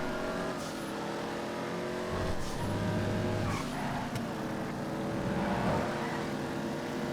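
A Dominator muscle car racing in a GTA FiveM lap race, its engine roaring steadily and revving up and down through gear changes, with brief tire squeals and loud, close, continuous motor noise.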